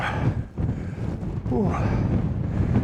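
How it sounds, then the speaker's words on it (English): Gusty wind buffets the microphone on a Ben Nevis mountain hike in showery weather, a steady broadband roar that dips briefly and surges again, with a faint voice partly audible beneath it. "That wind's, I see it keeps picking up and it's dying off."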